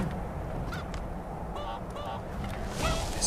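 A chicken in the video game Skyrim gives repeated honking fowl calls over a steady noisy background, a few short squawks rising near the end.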